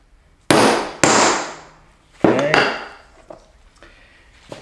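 Several sharp hammer blows drive a spindle part down during a D170 spindle assembly: two loud strikes, a pause, a third heavy hit, then lighter taps, each with a short ringing decay.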